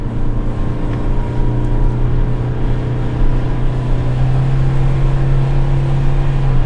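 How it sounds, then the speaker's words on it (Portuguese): Toyota Corolla hybrid with its combustion engine working hard while accelerating uphill, a loud, sustained engine drone with a steady hum that rises gradually in pitch as it pulls. "vamos encher o motor para você ouvir"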